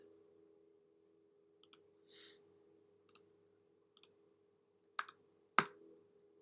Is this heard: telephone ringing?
no